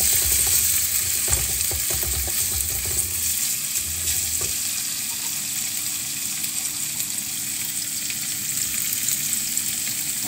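Garlic and sausage fry loudly in a pan, a dense continuous sizzle with a stirring utensil scraping and clattering through the first few seconds, close and alone with no talk.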